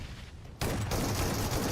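MG3 machine gun fire in PUBG Mobile, a loud sustained burst starting abruptly after a quieter moment and running continuously to the end.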